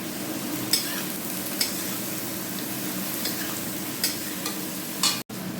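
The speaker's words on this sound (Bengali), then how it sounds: "এবার নেড়ে ভালো করে ভাজা ভাজা করবো।" Onion, tomato and garlic with salt and turmeric sizzle steadily in oil in a pan, with a few soft scrapes as they are stirred; no voices.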